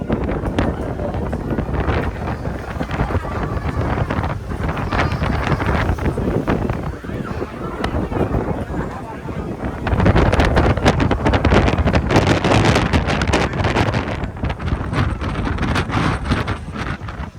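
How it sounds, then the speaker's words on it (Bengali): A strong storm wind with rain sweeps through Vrindavan, a loud, continuous roar buffeting the microphone that surges harder midway through, with a faint voice beneath. "আমার পিছন থেকে ধাক্কা আসছে, হাওয়া চলছে, বাপ রে বাপ, বৃষ্টি এখন গায়ে আসছে, হাওয়ার হাওয়া"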